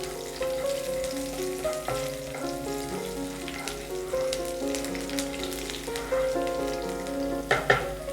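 Thinly sliced garlic sautés in a hot pan for prawn molly, a continuous lively sizzle and crackle with occasional stirring scrapes, close and steady, no talking.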